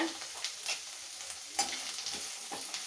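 Curry leaves frying in a pan for karuveppilai thokku, a soft crackling sizzle with a few brief stirring scrapes and pops, close by and steady, with no talking.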